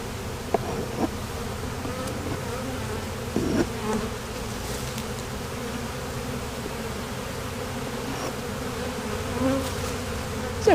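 A honeybee swarm settles into a box after hanging from a branch, giving a dense, steady buzzing that fills the whole stretch, with a few soft knocks and bumps over it.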